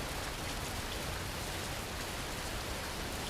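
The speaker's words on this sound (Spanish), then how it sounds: "Y aún sigue lloviendo." Steady video game rain in Fernbus Simulator pours down evenly, a dense hiss of drops on surfaces with no breaks, fairly close and constant throughout.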